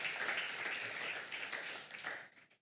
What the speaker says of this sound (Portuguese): Eu quero que vocês recebam aí com palmas o Guilherme aqui.